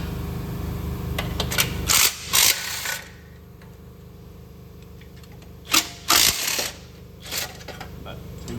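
A ratchet with a 15mm socket working a bolt during transmission removal on a 2012 Chevrolet 1500 WT 4.3, giving two loud bursts of clicking metallic ratcheting separated by a quieter mechanical hum, heard close up.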